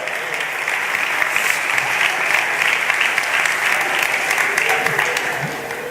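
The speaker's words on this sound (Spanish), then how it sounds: "Vamos a darle un aplauso a estos hombres" Sustained applause from a church audience honoring a group of men, dense steady clapping throughout with some faint voices mixed in.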